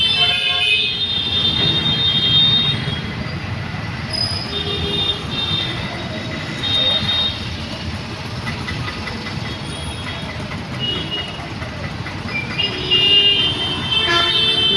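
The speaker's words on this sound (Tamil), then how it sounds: "ரோடு கண்ணுக்கு எட்டின தூரம் வரைக்கும் டிராஃபிக் நின்றுட்டு தான் இருக்குது." Dense, steady road-traffic roar from a long jam in Chennai where share autos, autorickshaws, motorbikes, cars and vans crawl past. Bright honks and horn toots sound at close range throughout, with a voice briefly present underneath.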